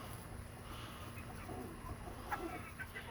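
Barred Rock and Americana chickens in a backyard flock give soft, faint clucks over quiet background noise, a few short calls rising near the end.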